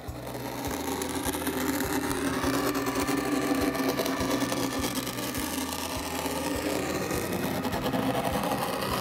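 A Sandscript automatic sand drawing machine runs at its top speed, a loud, continuous rattling buzz with a rapid, regular mechanical pulse that keeps going without pause.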